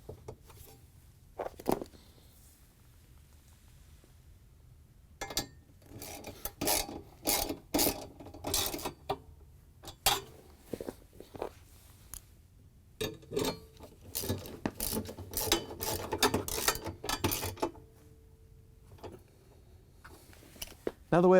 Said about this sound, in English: we can use our 10mm socket to put the screws back in